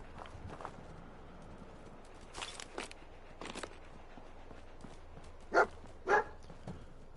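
A dog barks twice in quick succession in Fallout 4, set against a faint, quiet game background with light footstep-like sounds.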